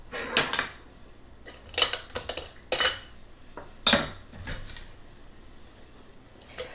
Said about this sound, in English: I'm going to just put these onions in the